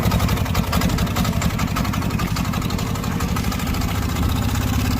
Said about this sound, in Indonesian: lebih jelas lagi karena motor ini menggendong mesin diesel, mesin yang tangguh di semua medan